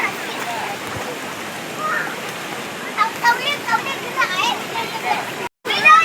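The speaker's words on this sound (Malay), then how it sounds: "Depan air terjun." A waterfall at Sungai Batang forest recreation park in Segamat, Johor, makes a constant rushing hiss of falling water, while people nearby talk over it in short bursts.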